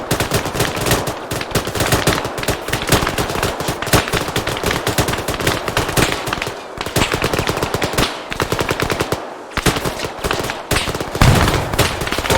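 Sustained, dense machine gun fire from a firefight in the video game Arma 3, with continuous rapid bursts and overlapping shots for over twelve seconds and only brief gaps, with no talk.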